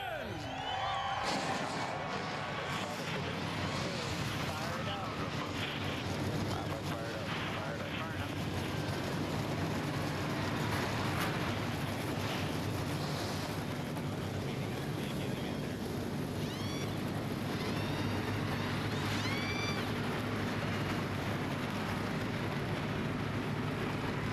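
A field of NASCAR Nationwide Series stock cars fires up at the one-mile Phoenix International Raceway oval, a loud, continuous, dense engine roar filling the whole stretch, with a voice faintly present in the wash.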